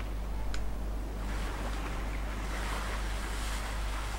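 Waves wash onto a shore in the dark game Limbo, a steady, full surf roar mixed with wind that runs evenly with no talk.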